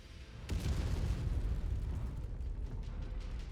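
A destroyed target blows up in the mech combat video game Mechwarrior 5, bursting into a sudden loud boom with a deep rumbling roar that lingers and slowly fades, with no voices over it.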